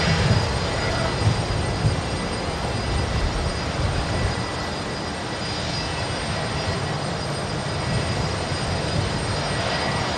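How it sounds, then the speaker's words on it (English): A Fokker airliner pushed back for departure at Brisbane Airport gives off a steady, broad engine roar with a low rumble, holding at an even level throughout with no talk. "I was moving back into position here just to catch this Fokker, which has pushed back, ready for their departure"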